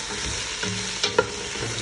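Carrots frying in oil in a pan for Kazakh lentil soup, a steady close sizzle with a couple of brief stirring clinks and scrapes, no voices.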